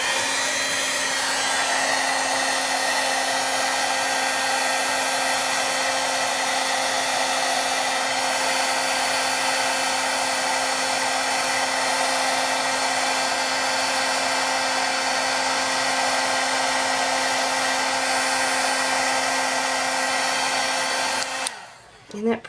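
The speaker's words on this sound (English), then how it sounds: "Let's get our heat gun. It's going to be a little loud," Heat gun blowing steadily to melt embossing powder on a Christmas tree card craft, a loud continuous whirring hiss lasting about twenty seconds before cutting off abruptly near the end.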